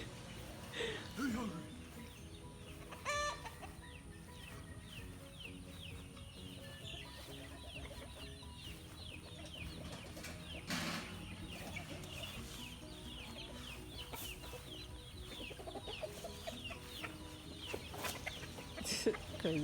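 Backyard chickens near a compost pile, scattered clucks and soft calls at moderate distance, with people talking intermittently over them.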